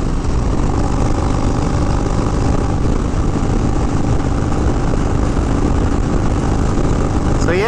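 Harley motorcycle engine droning steadily while riding, a loud continuous rumble with wind noise that holds level throughout, with no talking.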